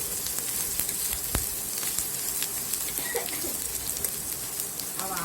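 Chopped green chili sizzling in a hot pan of oil while being sautéed for mango pickle, a steady close frying crackle with faint stirring throughout.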